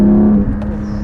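Porsche Cayman GT4 with a 414-horsepower engine held high in the rev range, giving a loud, steady mechanical drone that eases slightly partway through, heard alone without voices.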